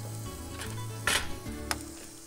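Minced garlic hits hot sesame oil in a soup pot, bursting into a close, crackling sizzle with a couple of sharp spikes over a steady frying hiss.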